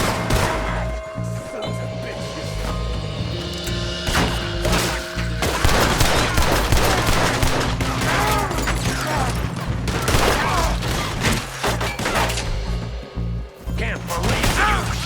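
Gunshots ring out in Red Dead Redemption 2, several loud cracks amid a dense, busy scene with rumbling background and music, the shots spread irregularly across the stretch rather than in a single burst.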